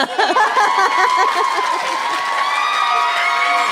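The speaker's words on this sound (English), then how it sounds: "I'm like, Tinkerbell, I need applause." Live podcast audience in San Francisco cheering, whooping and clapping loudly, with excited shouts and laughter running throughout.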